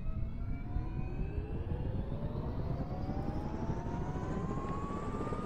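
A steady, loud engine drone with rising whine tones runs throughout, like a helicopter or aircraft powering up nearby, with no voices.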